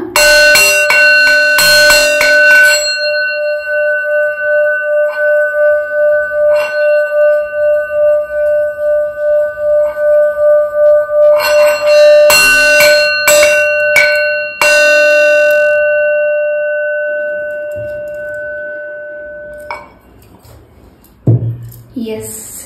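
A small bell rings during a tarot love reading, with clear sustained tones struck in clusters that ring on and fade. Brief clatter and handling sounds fall between the rings.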